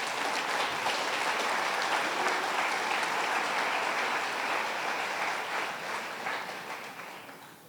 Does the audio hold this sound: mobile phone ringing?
no